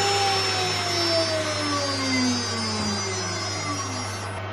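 A 2.2 kW water-cooled high-frequency CNC spindle runs on its first start, giving a loud, steady electric whine with slowly sliding tones over a constant hum, heard alone without talk.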